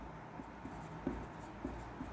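Handwriting on a board or paper during a math lesson, with soft, faint rubbing strokes and a few light taps spaced about half a second apart, no talking.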